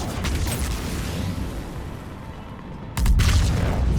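Continuous gunfire in Mass Effect 3 rattles along, then a louder boom or burst of shots hits near the end, dense and loud.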